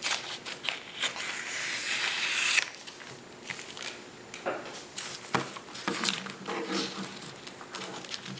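Scissors snip through plastic sheet protectors to cut off the punched holes, close crisp crunches and rustling plastic over several seconds.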